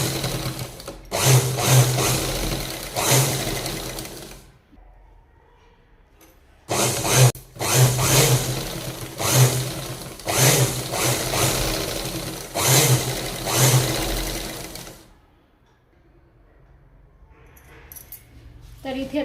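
Sewing machine stitching the sides of a small fabric purse with a zip: two long runs of fast, steady mechanical clatter, loud and close, separated by a short pause, with brief quiet at the end.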